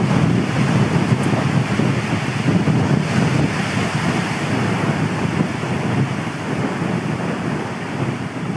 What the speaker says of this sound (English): Although it is quite windy now